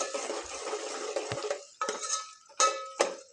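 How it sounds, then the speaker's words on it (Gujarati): A spoon stirs chopped onions in a cooking pot while making parvar shaak, a pointed gourd curry: soft scraping and rustling broken by a few sharp clinks against the pot's metal sides, close and without talk. "હવે બરોબર મિક્સ કરી લઈએ."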